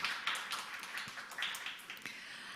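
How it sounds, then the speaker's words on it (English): Audience applause at a startup demo day event, a faint, steady patter of many hands clapping, heard from a distance for a few seconds. "Please give him a round of applause"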